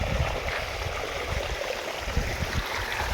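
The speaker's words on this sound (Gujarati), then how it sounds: "ત્રણ મોટરનું પાણી અત્યારે ભેગું હાલે છે" Irrigation water from three pump motors flows steadily along a field channel, a continuous gurgling rush close by with no voices.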